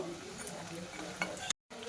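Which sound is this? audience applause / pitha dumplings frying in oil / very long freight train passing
pitha dumplings frying in oil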